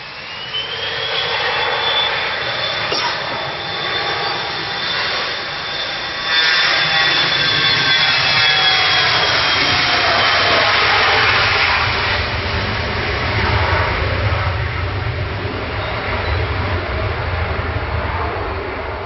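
Boeing 787 Dreamliner jet engines at Manchester Airport, a loud sustained roar with a rising whine that swells and holds throughout, heard outdoors at a distance.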